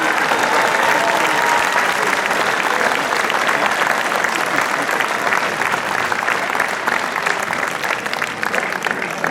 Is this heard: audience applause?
yes